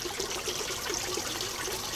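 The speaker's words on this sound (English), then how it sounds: "Now this is constantly splashing" Water splashes and trickles without pause in a small home aquaponics setup with a floating plant bed, a steady close-up burble with no talking.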